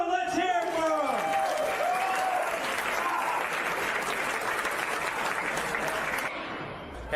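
Studio audience applause greets a comedy contestant, a dense steady wash of clapping lasting several seconds, with a host's voice calling out over the start before it fades.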